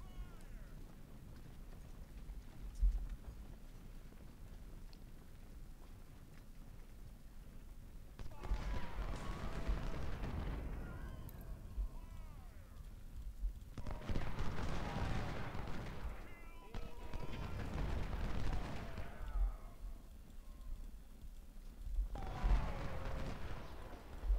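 Cannon fire in the Civil War strategy game Ultimate General: Civil War booms in several heavy rumbling volleys, spaced a few seconds apart, over a low ambient battlefield background.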